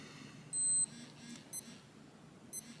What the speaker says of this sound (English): You hear the countdown beep?